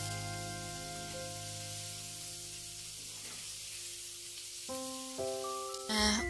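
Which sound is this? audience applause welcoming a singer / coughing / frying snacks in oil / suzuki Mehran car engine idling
frying snacks in oil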